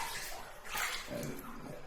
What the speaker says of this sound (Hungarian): ott a csapból hideg víz folyik